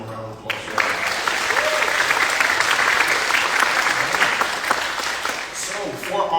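A youth-led candidate forum audience breaks into a round of applause, sustained crowd clapping with some cheering that swells after a brief opening and holds steady, loud and close, for several seconds.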